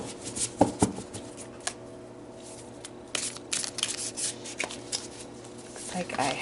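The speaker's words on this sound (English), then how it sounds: "Okay, let's pull some more cards." Tarot-style cards are pulled and shuffled from a deck during a reading, with soft papery rubs and flicks and a few sharper snaps, close and fairly quiet, along with faint background hum.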